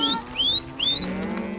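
Cattle moving on a real ranch cattle drive in cold, wet weather, with short repeated high calls and a low drawn-out bovine tone underneath, close and clear.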